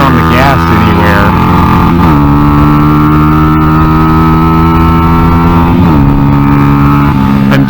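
A Honda NSF100 motorcycle running a salvaged XR100 engine drones loud and close at high revs, its pitch stepping down sharply around two and six seconds as it holds near the limiter.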